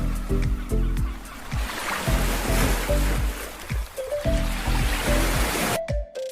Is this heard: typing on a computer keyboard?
no